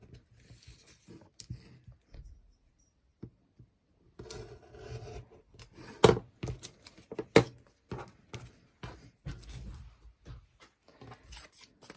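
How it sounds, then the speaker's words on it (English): Scissors trim around a fabric quilt block, leaving the seam allowance: quiet, irregular snips and soft rustling scrapes, sparse at first and then denser, with no talking. "all we've got to do is trim round the block, leaving the seam allowance in place."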